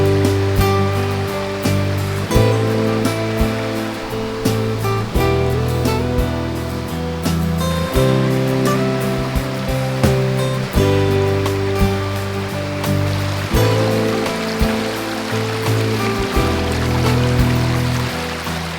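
The River Eden flowing where an old industrial mill burn, the Ceres Burn, joins it: a loud, continuous rushing of water, close by, with repeated surges and splashes throughout and no talk.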